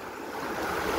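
Sea waves wash along a shore in a steady, broad rushing roar with faint wind over it, filling the brief moment without any voices.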